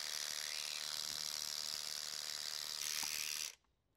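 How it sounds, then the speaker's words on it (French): Electric clippers running on a horse, a steady high-pitched buzzing drone close to the microphone that cuts off abruptly near the end. "On va allumer la tondeuse déjà."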